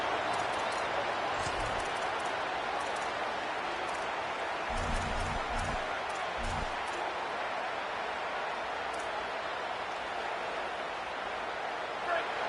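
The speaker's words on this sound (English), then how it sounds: "This crowd bringing the energy and noise early." A big crowd roars steadily in a stadium during a Texas A&M vs Washington college football game, loud and continuous, while a commentator talks over it.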